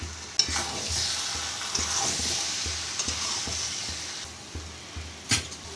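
Soybean curry with potato and pointed gourd is stirred in a pan, with a rhythmic series of soft scraping strokes over a low steady sizzle and one louder knock near the end. No talking.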